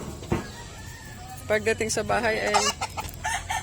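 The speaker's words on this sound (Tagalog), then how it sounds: "tapos na tayo pakain manok" Chickens on a farm cluck and crow in a burst of close, layered calls after a sharp thump, with a voice speaking briefly at the start.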